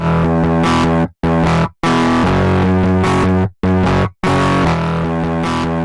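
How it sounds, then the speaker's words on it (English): A heavily driven synth signal clips through a distortion effect in a software plugin, producing loud buzzy sustained chords cut into several bursts separated by abrupt silences. "You can see it's totally just clipping the signal."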